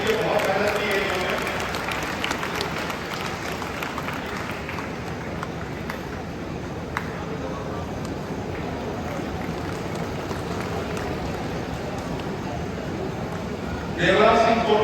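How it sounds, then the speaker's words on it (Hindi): A large audience at a university convocation ceremony applauds graduating students in a long, steady wash of clapping, with an amplified voice talking over it throughout and a fresh swell of claps at the end. "जोरदार तालियां जरूर बजाइए हमारे बच्चों के लिए"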